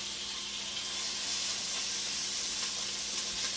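Ground meat sizzling in a hot pan for chili, a loud, even, close hiss that runs unbroken throughout with faint crackles and no voices.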